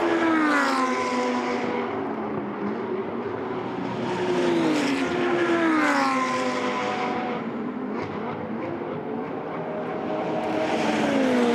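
GT2 race cars roar around the Red Bull Ring circuit during a European series race, engines rising and falling in pitch as several cars pass in succession, loud and continuous with overlapping gear-change sweeps.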